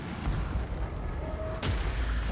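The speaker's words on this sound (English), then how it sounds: "Ooh, Awakening of the Wood. Nice explosion." The Awakening of the Wood spell explodes in a Warhammer 3 battle as a heavy booming blast over constant rumbling combat noise. A brief tone comes before a sharp, loud burst near the end.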